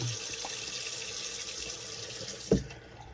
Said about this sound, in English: Rinse this alum off.